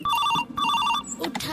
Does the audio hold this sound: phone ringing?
yes